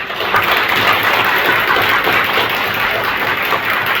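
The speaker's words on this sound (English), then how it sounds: "Please, round of applause." A community crowd at an autism awareness event gives a round of applause. Continuous, even clapping holds at a steady loudness for a few seconds, with no talking over it.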